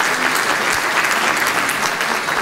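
An audience breaks into loud, steady applause welcoming a singer at a Turkish music performance, the clapping dense and continuous throughout.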